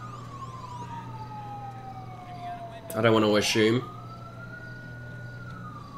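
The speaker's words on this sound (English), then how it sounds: "that ambient siren has been going on for ages now" A wavering police siren drifts through the background of a GTA 5 street scene, steady and distant across the whole stretch, while a voice speaks briefly over it midway.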